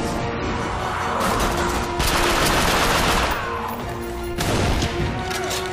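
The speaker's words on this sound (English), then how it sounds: "Can still hit him from that far away with a shotgun." Dense gunfire in the first-person shooter The Darkness 2 keeps up a loud, constant barrage of shotgun blasts, crashes and impacts with almost no pause.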